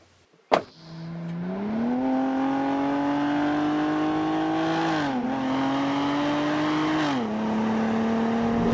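A Cadillac ATS V6 starts with a sharp click, then accelerates hard, its steady drone climbing through the gears with two brief dips at shifts, loud and close with no talking.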